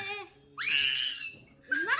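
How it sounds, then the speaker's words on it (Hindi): A young girl lets out loud, shrill screams at home during summer vacation, in two bursts of high, wavering voice separated by a brief pause, with a little talk at the start. "कौन चिल्लाता है? नहीं चिल्लाते इतना, नहीं चिल्लाते, नहीं चिल्लाते।"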